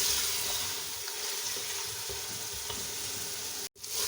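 Aloo gosht masala sizzling and frying steadily in a pot as the spices are cooked through, a continuous crackling hiss with a brief stir-like break near the end.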